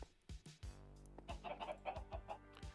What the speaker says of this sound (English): Chicken, could you move? Please?